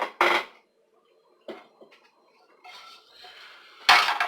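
A cold cooking pan, used for scrambling eggs, is picked up and set down on a stovetop, giving a few sharp metallic clanks and scrapes separated by quiet gaps, close by.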